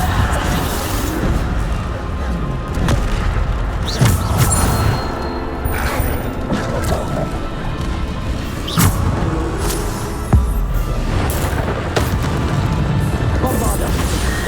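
Repeated Bombarda explosion spells in Hogwarts Legacy, sharp crashing blasts at intervals over a dense, busy din of combat noise, loud and close.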